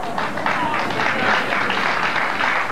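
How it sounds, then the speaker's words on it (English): Steady broadband applause from a bowling audience at a ladies' bowls match, filling the whole stretch at an even, moderately loud level with no clear gaps. "Big round of applause for that shot."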